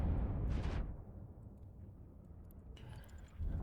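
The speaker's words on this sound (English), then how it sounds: "Somebody's shooting them." Ships trade fire in the video game EVE Online, with a rumbling explosive blast at the start that fades into a low hum before another muffled burst rises near the end.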